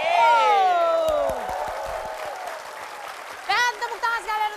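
Studio audience on an Indonesian TV comedy game show applauds and cheers in bursts, while a host talks over it, with speech continuing as the clapping fades.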